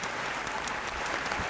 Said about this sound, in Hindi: खुल के ताली बजाएं भाई